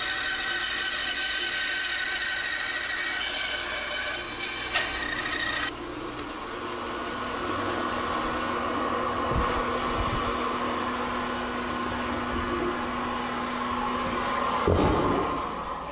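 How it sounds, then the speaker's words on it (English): Bandsaw cutting the rough outside shape of a wooden bowl blank, a continuous near buzzing drone with a brief knock or two as the blade works, no voices. "The easiest way to cut the outside shape is by using a bandsaw."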